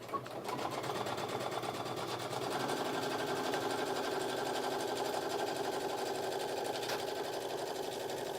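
A sewing machine runs a quick basting seam on a fur tote, a steady, fast mechanical whir with rapid stitching ticks that holds evenly for the whole stretch at moderate volume, with no talk.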